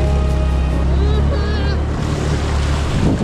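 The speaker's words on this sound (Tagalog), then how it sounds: "Ay, may alon." Choppy waves slap and wash around a motorboat on open water, a steady loud roar with gusting wind buffeting the microphone throughout.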